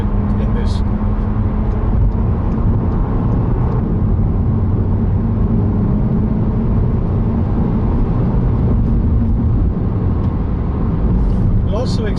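A Volkswagen Golf GTI engine pulls hard under acceleration, a steady loud drone holding through the whole stretch without a break.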